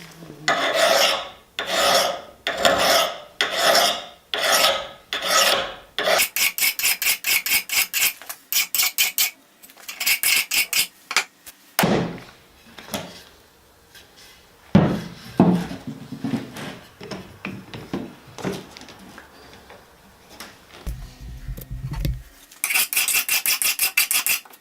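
A hand file rasps along the edge of an axe being sharpened during a restoration, in quick rhythmic bursts of loud, close strokes, followed by slower separate passes and a brief pause before the strokes resume.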